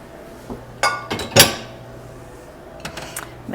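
A sturdier spoon stirs carrots into a batter in a mixing bowl in a home kitchen, giving a few close clinks and scrapes against the bowl, with quiet gaps between them.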